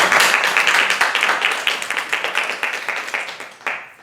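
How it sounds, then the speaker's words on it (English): A small audience claps for a performer in full costume at a traditional Yakshagana theatre show from southern India. The clapping is close, brisk and uneven and tapers off over four seconds, with one last burst near the end. "Give her a clap."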